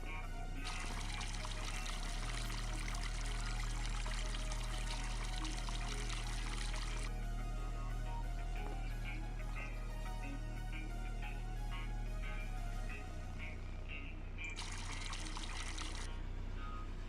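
Water pours from a spigot into a bucket in the Farming Simulator 25 video game, a steady splashing stream under a low constant hum, with a second short burst of pouring near the end.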